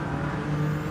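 Car engine in the Gran Turismo 7 racing game, a steady, moderately loud drone with a sustained low tone, no voices over it.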